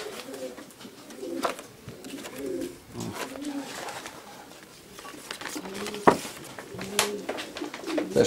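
Pigeons coo in soft, repeated rounds close by, with faint rustling and patter of movement in between.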